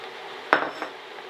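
A ham hock set down into a cooking pot gives one sharp metallic clunk against the pot, followed by a softer knock and a light rattle, close and brief over a quiet background.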